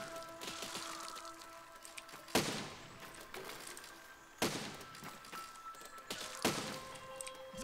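Booming cannon shots in the video game Besiege fire about every two seconds, three sharp blasts over steady battle noise and rumbling.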